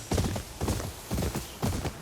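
Horse hooves clip-clopping as a rider travels on horseback in Ghost of Yotei, four clear rhythmic bursts of footfalls at an even gallop, close and fairly loud with no talk.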